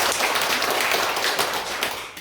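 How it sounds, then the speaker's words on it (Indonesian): Congregation clapping in a church service, a dense continuous patter of hands at steady moderate loudness with no voices over it. "Berikan tepuk tangan untuk Tuhan."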